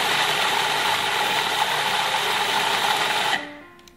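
A blender runs steadily, grinding lime juice and salt for a fish taco sauce, a loud continuous whir close by that cuts off near the end and winds down into silence.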